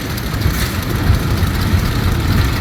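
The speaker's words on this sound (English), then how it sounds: "Just passing by me now is the Fordson gas tractor, built by Henry Ford & Son" A 1923-25 Fordson gas tractor built by Henry Ford & Son passes close by at a threshermen's parade of power, its engine a steady, loud low rumble with no voices over it.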